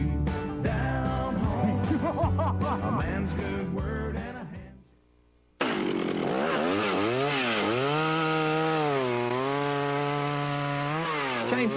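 A chainsaw runs at a demonstration during a store's grand opening. The engine revs and dips, briefly fades out, then roars back loud and steady with its pitch rising and falling as the throttle works.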